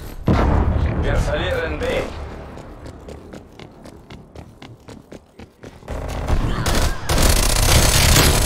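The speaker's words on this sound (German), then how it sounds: "Ich schieße da und dann geht nach oben." Bursts of automatic gunfire and explosions fill a Call of Duty Black Ops Cold War team deathmatch, loud and dense at the start and end, with sparser single shots in between while someone talks over the action.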